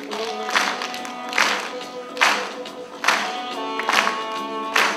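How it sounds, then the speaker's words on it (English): At a live country concert in Hendersonville, NC, the audience claps along to a song, a steady rhythmic beat of group claps roughly once per second over the music. "Let's do some hand clapping."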